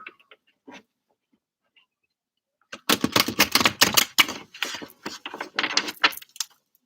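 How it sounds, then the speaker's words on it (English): Tarot cards shuffled in a reading session: a dense run of crisp riffling flutters and snaps, fairly close, after a few faint isolated taps, with no voices. "Let's do another shuffle."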